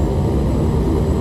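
An OV-10 Bronco's engine roars at full power in a VR flight game, a dense continuous drone with strong low rumble, loud and steady across the short moment without talk.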